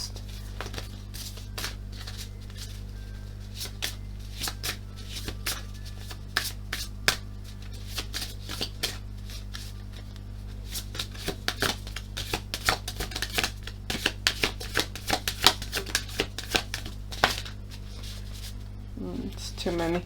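Astrology or tarot cards are shuffled by hand, producing a run of crisp slaps, riffles and flicks that grow denser toward the end, heard close over a steady low hum with no talking.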